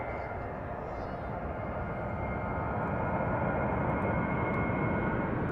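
Jet2 airliner roaring steadily at Manchester Airport, a loud continuous broadband engine rush that swells slightly over several seconds with no pause.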